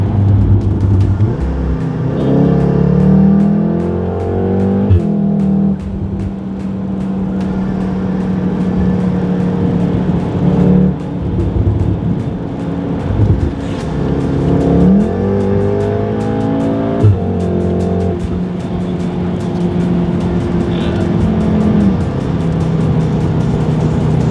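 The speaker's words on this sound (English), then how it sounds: "I think mission successful on the exhaust system. That sounds incredible." A car engine revs hard again and again through a loud exhaust, climbing and dropping in pitch between bursts, with crackles on overrun.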